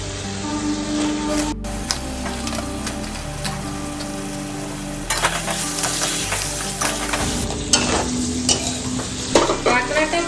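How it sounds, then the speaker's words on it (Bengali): Crabs dropped into hot Kashmiri red chilli masala in a pan for crab masala, a loud steady sizzle and frying hiss with stirring scrapes, close up, surging sharply around the middle as more crab goes in. "এখন কাঁকড়াগুলো দিয়ে দেব।"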